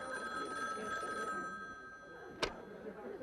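An old 1970s telephone bell rings with a long-distance call, a steady bright metallic trill held for about two seconds and then cut off, followed by a sharp click as the receiver is picked up.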